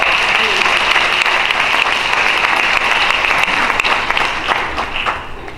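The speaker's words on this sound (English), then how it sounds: "Quick round of applause." Audience at a university community forum breaks into sustained applause, a dense, steady wash of clapping that holds for several seconds before tapering off near the end.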